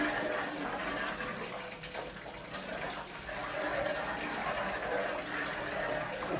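Milk with vermicelli simmering in a pot, a faint steady bubbling and hissing that stays low and even throughout, with no one speaking over it.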